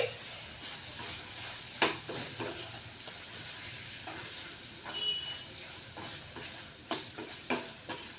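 Tomato and onion chutney with crushed peanut powder sautéing in a pan, with soft sizzling and steady stirring scrapes, occasional sharper utensil clicks, close and fairly quiet, no talk.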